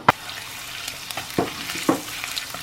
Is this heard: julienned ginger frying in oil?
yes